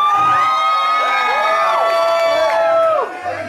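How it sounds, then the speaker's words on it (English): Crowd at a small Glasgow club gig cheering and whooping after a song ends, loud and close, with sustained shouts that fade near the end. "Everybody's cheering."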